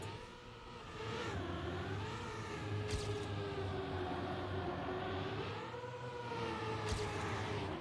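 A car races in the video game Trackmania, its engine a continuous droning whine that rises and falls in pitch with speed, steady and fairly loud throughout.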